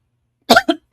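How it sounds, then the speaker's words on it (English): A person clears their throat with a short cough: three quick, rough bursts close to the microphone after a moment of silence. "Let me clear my throat."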